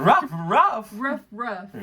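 A man imitates a dog with several short, rough barking yelps in a row, his voice carrying the barks close and loud.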